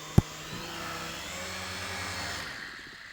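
A SYMA remote-control military toy helicopter whirs with a steady, high-pitched motor and rotor buzz close by, starting with a sharp click and holding an even drone for about two seconds before tapering off.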